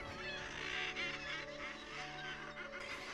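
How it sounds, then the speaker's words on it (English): Many seabirds calling at once, a dense chorus of harsh honking and cackling cries from a large guillemot colony on a Svalbard cliff, continuous and fairly close. "The sights, the smells, and the sound of all these birds calling away."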